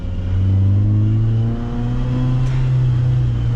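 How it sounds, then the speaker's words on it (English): A Lamborghini Huracán Tecnica's engine pulls hard while driving, with a loud rising growl heard from inside the car and a brief dip around a gear change before it climbs again, and no talking. "Let's go, we're driving the Technica."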